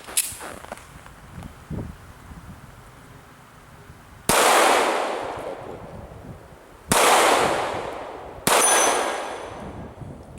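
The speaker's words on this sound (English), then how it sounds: "Gonna go for some real concentrated shooting here on that 6-inch plate again." A Kimber 1911 .45 ACP Compact Stainless II pistol fires three loud, irregularly spaced shots at a 6-inch steel plate 30 yards away, each crack followed by a long echoing decay, after quieter handling noises.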